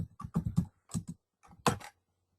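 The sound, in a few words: typing on a computer keyboard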